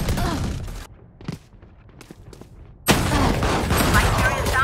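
Gunfire in the video game Valorant, bursts of sharp shots with a quieter gap of scattered reports in the middle before loud rapid firing resumes, players talking at points.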